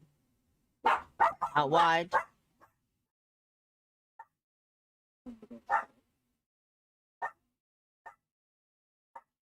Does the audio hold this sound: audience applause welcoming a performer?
no